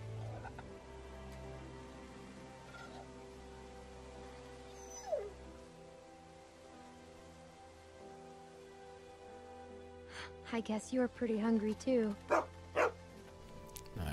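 Dog in The Walking Dead: Season 2 game, a soft whine early on and then a close run of quick yips and barks near the end, with someone speaking briefly.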